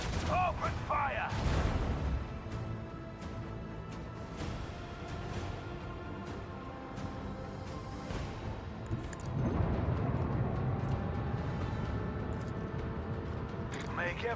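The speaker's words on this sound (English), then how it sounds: "Macro cannons, open fire!" Macro cannons on a starship open fire in a Warhammer 40k space battle game: a dense barrage of booming shots and blasts rolls on throughout, with heavy rumbling swells, while voices talk over the gunfire.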